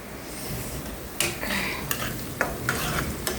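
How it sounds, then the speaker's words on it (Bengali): Onions fry in a pan while a spoon stirs them, with a steady sizzle under repeated scraping clinks against the pan, close and fairly loud. "ভাজা ভাজা হইব এখনো ব্রাউন হয় নাই গা"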